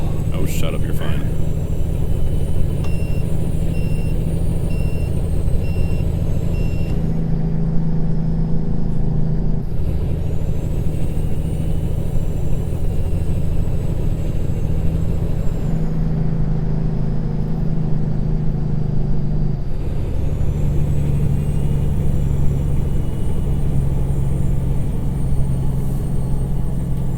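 Heavy truck engine in American Truck Simulator, a steady low rumble that shifts through gear changes, with a person talking over it throughout.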